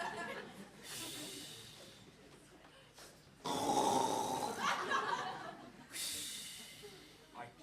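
An actor on a theatre stage imitates loud snoring, with several drawn-out rasping snores in an uneven rhythm. The loudest snore comes in the middle, and a shorter one follows near the end.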